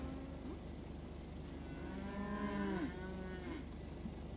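A cow in the video game Wobbly Life lets out a drawn-out, wavering moo over a low ambient hum, faint at first and swelling in the middle before trailing off.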